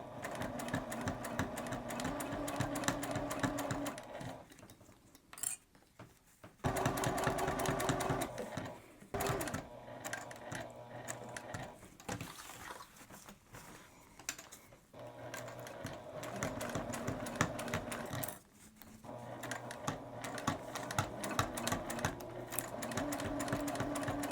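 A sewing machine stitches a fabric hip bag, back stitching at the D-rings: bursts of fast, buzzing, rattling runs broken by short pauses as the stitching stops and restarts, close and clear.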